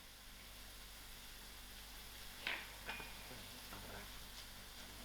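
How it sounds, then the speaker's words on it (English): Garlic and mushrooms fry over low heat in a pan with a soft, steady sizzle, marked by a couple of brief louder crackles near the middle. "Allow the garlic to fry."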